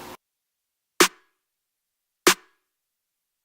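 The higher of two layered snare drum samples in Ableton Live: two isolated, crisp hits with a tight, bright snap and very short tail, roughly 1.3 seconds apart, flanked by brief bits of sound at the edges.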